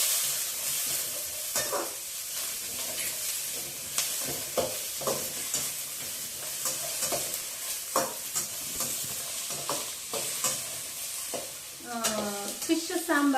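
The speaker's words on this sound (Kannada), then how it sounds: "ಇದನ್ನ ಸ್ವಲ್ಪ ಚೆನ್ನಾಗಿ ಫ್ರೈ ಮಾಡ್ಕೋಬೇಕು." Spices frying in oil in a pan for fish sambar, a continuous sizzle broken by frequent scraping stirs and clinks, with a faint voice briefly near the end.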